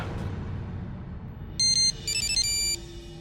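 An electronic phone ringtone starts after a quiet moment, playing a bright repeating pattern of tones over a low background hum.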